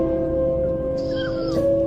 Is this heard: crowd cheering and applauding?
no